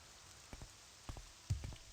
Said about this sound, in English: And of course, it's bloody raining.